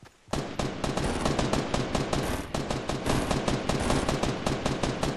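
Rapid automatic gunfire in the Fortnite video game, a dense unbroken stream of loud sharp shots hammering in fast rhythm for several seconds, close and dominant with no talk.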